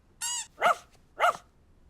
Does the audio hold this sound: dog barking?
yes